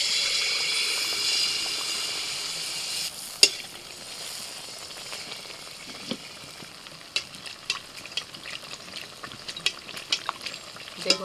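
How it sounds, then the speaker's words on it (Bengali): Palm fruit pitha frying in hot oil gives a steady close sizzle, with scattered pops and soft clinks of stirring running through the bubbling, and no voices. "ভাজা পিঠেগুলো ভেজে নিচ্ছি।"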